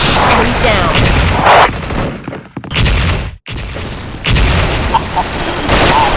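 Loud, crunchy game explosions and gunfire bursts fill the clip, with a brief drop to near silence in the middle before the blasts resume.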